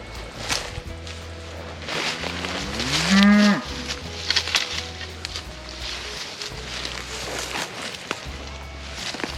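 Highland cattle from a family farm herd moo outdoors, one loud drawn-out call rising and falling near the middle, with quieter lowing and rustling around it and no talk.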